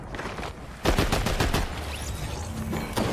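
In Fortnite, a rapid burst of gunfire cracks out close and loud, with several sharp shots clustered in under a second and another shot near the end, set against constant game noise.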